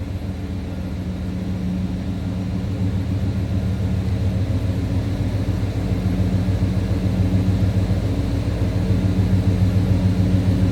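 A 1995 Chevrolet Silverado 1500 2WD pickup idles steadily from behind the truck, a continuous low engine drone with a faint rising hum, no talk over it.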